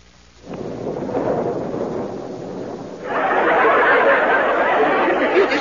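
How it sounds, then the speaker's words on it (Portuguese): A loud thunderclap breaks into a broad, rolling rumble that swells even louder partway through and keeps roaring to the end, with no voices. "Isso aí foi um trovão."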